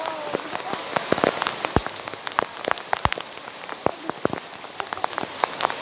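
Heavy rain pours down steadily, a dense hiss broken by sharp individual drops spattering nearby on a hard surface.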